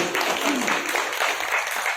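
An audience at a Bhagavad Gita talk breaks into loud applause, a dense run of clapping with a few voices calling out underneath.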